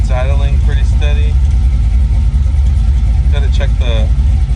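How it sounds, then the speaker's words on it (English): A 1965 Chevrolet Nova engine idles after its first start, a loud steady low rumble running throughout, while people talk close by over it. "It's idling pretty steady."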